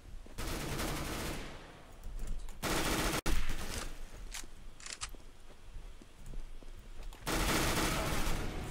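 Rapid automatic gunfire in Counter-Strike: Global Offensive, loud bursts of rattling shots filling most of the stretch, with a sharp single crack midway and quieter gaps between volleys.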